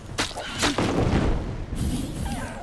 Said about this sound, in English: Whoa, they keep lobbing grenades at me.